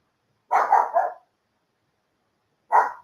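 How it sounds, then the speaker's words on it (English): A dog greeting someone at the door barks three quick times in a tight burst, then gives one more single bark after a pause. The barks are clear and close against a silent background. "my dog is greeting somebody at the door"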